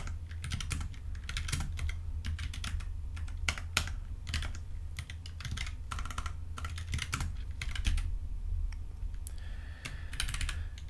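A computer keyboard is typed on quickly and continuously, close and clear, with dense irregular key clicks over a low steady hum, with no voices.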